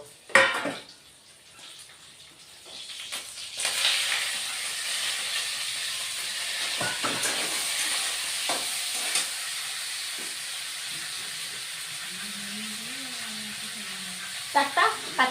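Fenugreek greens and fried potato and eggplant go into a hot frying pan for a vegetarian methi shak, setting off a steady, loud sizzling hiss with a few faint clinks of utensils.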